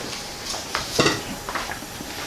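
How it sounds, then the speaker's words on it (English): Onion sautéing in a hot pan makes a steady close sizzle, with a few sharper stirring scrapes and clicks rising over it and no voice. "we're going to saute up some onion"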